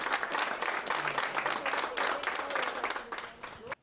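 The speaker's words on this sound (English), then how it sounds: "Round of applause for all of" Applause from a crowd at a Lake Nelson Fourth of July parade in Piscataway, a steady wash of clapping lasting several seconds before cutting off abruptly.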